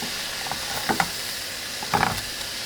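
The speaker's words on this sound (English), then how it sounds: "my polenta is boiling now, so let me see the front. Let me turn the heat back. Let me give this a quick stir." A spoon stirs boiling polenta in a pot on the stove, giving a few soft scraping, bubbling bursts near the start and again near the end over a steady hiss.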